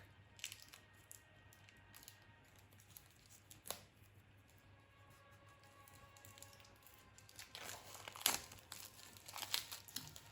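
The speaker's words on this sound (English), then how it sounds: "So this is also shrink wrapped, which is kind of a shame. Just so much plastic." Plastic shrink wrap is peeled off a new Tarot of Vampyres card deck: quiet crinkling throughout, with a few sharper bursts of crackling toward the end and no talk.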